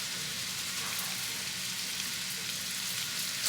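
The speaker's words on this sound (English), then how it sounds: "while I get these mushrooms sauteed down" Mushrooms sautéing in a pan make a steady, close sizzle and hiss that runs unbroken throughout, with no voices over it.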